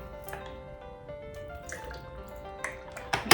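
Coconut water poured into a blender for a pineapple mango banana smoothie gives faint trickling drips and splashes, with a sharper clatter near the end.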